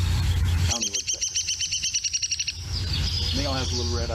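Woodpecker calling during spring birding in a gulch, a rapid series of about a dozen sharp, evenly spaced notes, fairly close and clear over steady outdoor background noise, followed by fainter bird chirps.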